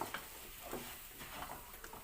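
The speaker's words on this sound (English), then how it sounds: "We have to mix it well" A spoon stirs peanut butter into pork stew in a pot, making soft wet scraping and faint bubbling sizzle in short, uneven strokes at close range.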